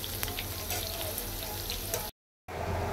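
Soybean pakoras deep-fry in hot oil with a steady, close, dense sizzling hiss that cuts out briefly near the end and then resumes.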